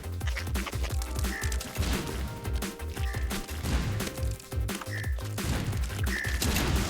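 Missile launchers fire in Super Meat Boy on the Vita, with repeated explosive blasts and crunches over busy, driving game music at a moderate level.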